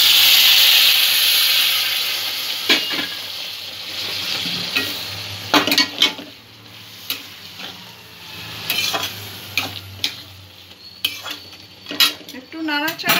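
Chickpea curry (chole) for chole bhature is stirred in a pot after boiling chickpea water is poured in, with a loud initial hiss of steam fading into repeated close scraping and clinking of a spoon against the pan.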